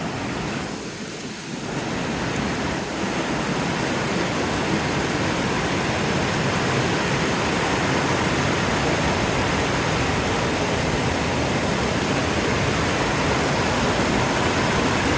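Steady rushing stream water flowing beside a Sierra hiking trail in the Eastern Sierra, California, during summer snowmelt, heard as a continuous broadband wash, loud and close, with no talk over it.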